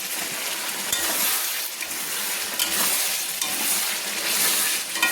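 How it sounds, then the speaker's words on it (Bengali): Yogurt chicken with spices and four green chilies sautés dry in a pan without water, a bright steady sizzle broken by repeated scraping stirs of a spoon, close and continuous with no talk. "দেখুন আমি কষিয়ে নিচ্ছি, প্রায় 7-8 মিনিট ধরে আমি কষিয়ে নিচ্ছি টোটাল জল না দিয়ে।"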